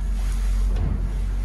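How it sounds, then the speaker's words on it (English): A Beneteau Barracuda 6 boat with a Suzuki 115HP outboard running on choppy, windy water with whitecaps, giving a loud continuous low roar mixed with wind buffeting and splashing hull noise. "we're out on the water and it's actually pretty windy out here today and pretty choppy"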